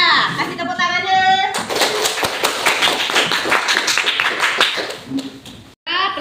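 A seventh-grade class claps for a classmate during an Islamic jurisprudence lesson on ritual purification. A short burst of dense, close applause follows a brief spoken line, then cuts off abruptly near the end.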